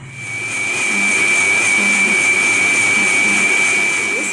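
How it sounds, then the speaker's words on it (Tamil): A kitchen mixer grinder whirs with a steady high-pitched motor whine as it churns Boost, sugar, chocolate syrup and milk into a frothy shake, close and loud, ramping up at first and then running without talk. "இப்போ எல்லாத்தையுமே நல்லா மிக்சியில் போட்டு நல்லா நுர பொங்கக்கூடிய அளவுக்கு நம்ம அடித்து எடுத்துகிட்டு வந்துடலாம்"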